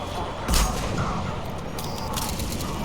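A grenade explodes in the Mass Effect 3 video game, one short loud boom standing out over steady gunfire and battle noise.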